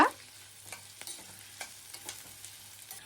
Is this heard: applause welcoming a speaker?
no